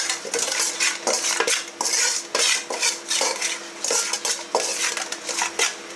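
Rewaji mutton is mixed with garam masala in a metal basin, with rapid, close metallic clinks and scrapes of a spoon against the bowl in an uneven, continuous rhythm.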